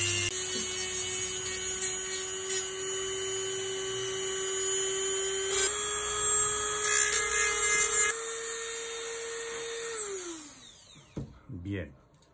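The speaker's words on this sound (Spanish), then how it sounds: "Esto hacemos con el Dremel." A Dremel rotary tool grinds the surface of a denture with a steady high-pitched whine, shifting pitch slightly under load before spinning down near the end, while a person talks over it.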